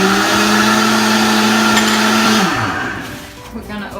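A Vitamix blender whirs loudly at high speed with a steady motor whine, then winds down and stops after about two and a half seconds, leaving a faint rattling tail.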